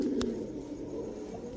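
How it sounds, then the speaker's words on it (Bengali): Giribaz high-flyer pigeons coo softly in low, rolling tones against a steady background hum, with one brief click near the start. "এখন দেখাবো একটা লাল দোবাস নর কবুতর, খুব সুন্দর একটা নর।"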